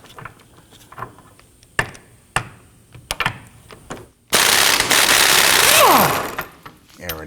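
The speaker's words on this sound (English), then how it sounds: "Now we're going to use our 22mm socket on our impact gun." A pneumatic impact gun with a 22mm socket hammers loose a rear control arm bolt on a 2015-2024 Nissan Murano, one loud sustained burst of rattling blows after a few scattered clanks and taps of tool handling, ending with a spinning whine.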